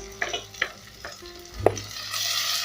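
Tomatoes go into a pot of translucent onions for a thick bean stew, setting off a moderate frying sizzle with a few stirring scrapes and clinks, and a brighter hiss swelling toward the end.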